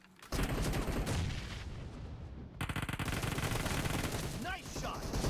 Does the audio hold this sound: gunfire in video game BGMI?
yes